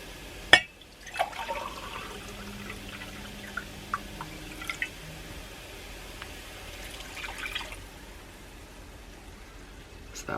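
Reverse osmosis water goes into a Magma skillet with a few scattered drips and small splashes over a quiet background, close by and without talk.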